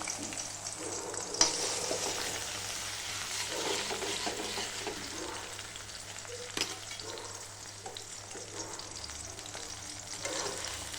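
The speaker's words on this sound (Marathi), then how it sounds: "आता तेलामध्ये चांगला मसाला फ्राय करायचा" A continuous crackling sizzle of spice paste frying in hot oil for a dill leaf dish, with occasional stirring clinks, steady throughout and no talking.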